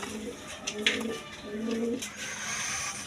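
A pair of Bukhara pigeons cooing in repeated low rolling phrases, close by, over a busy background with brief sharp noises and faint talk.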